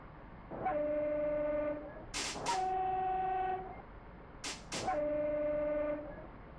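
Three loud blasts from a 1987 Dutch NS railway train horn on the Almelo–Zwolle line, each a sustained chord-like tone lasting about one to one and a half seconds, with rumbling train noise between them.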